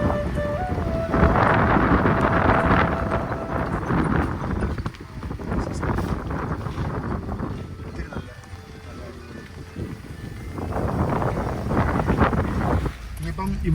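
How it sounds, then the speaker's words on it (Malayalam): Strong wind sweeping over a hilltop temple in the Combai valley of Tamil Nadu, buffeting the microphone with a loud, continuous rumbling roar that eases briefly midway before gusting hard again. "നല്ല കാറ്റും"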